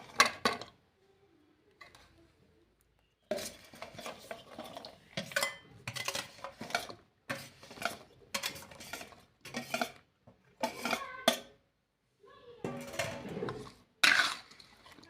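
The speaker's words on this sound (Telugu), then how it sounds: "మామిడికాయ ముక్కల్ని ఇందులో వేసుకొని బాగా కలుపుకోవాలి" Mango pieces for pickle are mixed in a bowl, giving irregular bursts of scraping and clattering from a utensil against the bowl, close up and separated by short quiet gaps.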